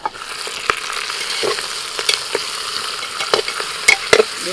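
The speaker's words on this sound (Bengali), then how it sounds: "মটনটা এবার দিয়ে দিলাম" Mutton pieces tipped into lightly fried onions in a pan and stirred, a steady close sizzle broken by sharp scraping clinks and spoon knocks, with no one talking.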